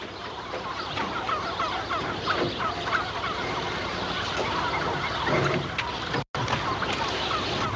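A flock of turkeys gobbles and clucks continuously at moderate volume, a busy chorus with a brief dropout near the end.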